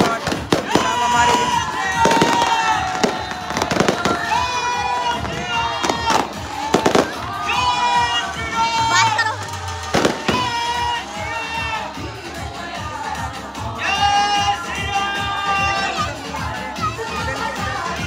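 Fireworks and firecrackers burst repeatedly at a Shree Ram Mandir celebration in Ayodhya, loud sharp cracks and crackling volleys over a cheering crowd with children shouting and people talking.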